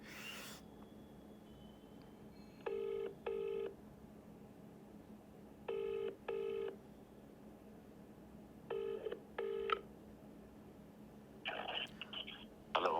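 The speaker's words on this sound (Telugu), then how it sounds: "కాల్ చేద్దాం ఒకసారి" A telephone call is placed: a few quick keypad tones, then repeated paired ringback tones in an even rhythm, faint and clear over a quiet background.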